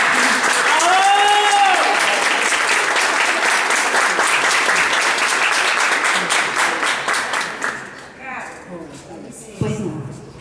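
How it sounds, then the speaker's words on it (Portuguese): A group at a mothers' support meeting claps warmly in a continuous round of applause, with a few voices and a brief whoop near the start, before the clapping thins out and fades near the end. "Eu queria uma salva de palmas para vocês."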